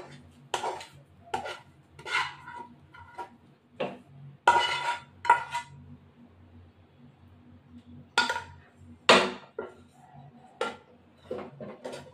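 A food mixture being scooped and set onto an oiled metal plate, heard as a series of separate close clinks and scrapes of utensil on metal with short quiet gaps between them.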